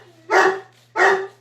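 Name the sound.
dog barking indoors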